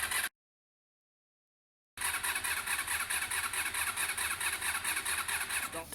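A Honda RVF400 motorcycle engine cranks over with the ignition on, a loud steady churning rhythm that breaks for a short silence, then resumes and keeps turning without catching.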